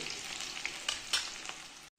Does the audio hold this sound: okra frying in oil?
yes